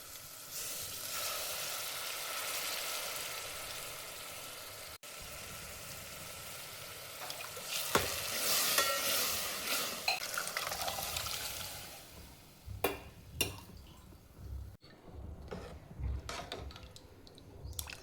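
Cooked dill greens go into a pan of frying green chillies for a village-style sour dill and chuka greens dish, with a steady oily sizzle and close stirring scrapes that grow busier toward the end.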